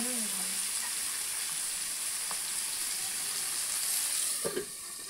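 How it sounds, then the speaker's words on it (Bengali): Potatoes and vegetable stems fry in a pan with a steady, close hiss that runs throughout, broken near the end by a couple of brief spatula clinks. "এটা একটু ভাজা ভাজা করে নিই, আলু আর ডাটা থেকে।"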